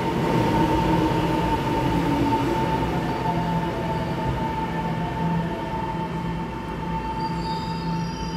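An EMU715+EMU716 electric commuter train runs through a station on a route from Chiayi to Keelung, a steady rolling rumble with a sustained high wheel squeal and a low hum, continuous and close.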